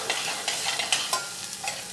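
Chestnuts that were already cooked, rolled with shallots in hot fat in a pan, give a soft, steady sizzle broken by repeated light scraping and stirring clatter, close up with no voices.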